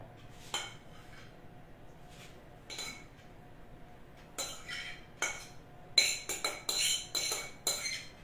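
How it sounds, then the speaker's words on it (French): A utensil scrapes and clinks against a dish of crustless carrot and ham quiche in short bursts, sparse at first and then quicker and busier toward the end, with a faint steady hum underneath. "J'espère que ça ne fait pas trop de bruit quand je racle."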